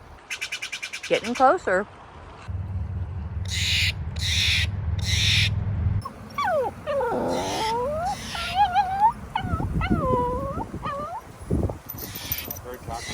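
Birds call near the speaker during a windy road trip toward Iowa, sharp squawks and wavering cries coming in bursts between and under a person's talk, close and fairly loud.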